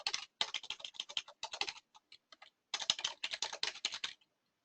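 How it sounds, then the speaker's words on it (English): Rapid clattering keystrokes on a computer keyboard as a service name is typed, close and crisp in two quick bursts separated by a short pause with a few scattered taps, then stopping. "We simply type in the service name and hit enter."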